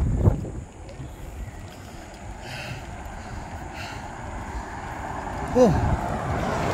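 Cold wind rushing past while cycling down a mountain road toward Kennon Road, a steady, close buffeting roar across the whole stretch, with a voice briefly heard near the end.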